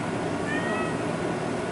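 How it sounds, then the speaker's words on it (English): A cat meows indoors during a hair-cutting tutorial, one drawn-out mewing cry rising briefly over a steady background hiss, with no talking. "Excuse the cat in the background,"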